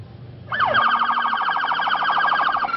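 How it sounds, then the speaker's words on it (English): A police siren winds up sharply and then wails with a fast, warbling yelp, loud and close, with no other sounds. "Police sirens sounded."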